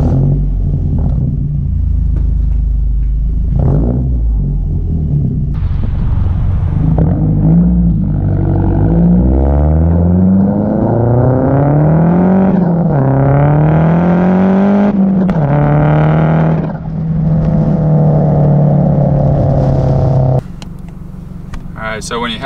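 A Mazdaspeed 3 tuned with a Cobb Access Port launches with launch control for a quarter-mile run: a loud, close engine holds revs, then climbs through rising gear pulls. There is road and wind roar, and the sound cuts off sharply near the end.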